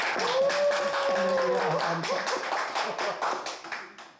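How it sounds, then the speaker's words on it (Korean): A church congregation claps in a loose, fairly quick rhythm, with voices and a sustained tone heard beneath the claps early on. "우리 박수 한번 쳐주시다"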